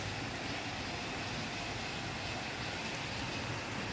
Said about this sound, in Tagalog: Nakikita yung lakas ng ulan.